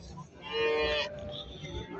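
At a cattle market in Barda, a cow lets out a single drawn-out moo at moderate distance, lasting about a second over low, steady market background noise.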